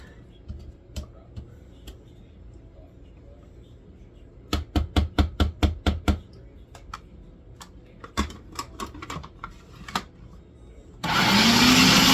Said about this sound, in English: I always like to scrape my sides down to my food processor, make sure everything gets all mixed up.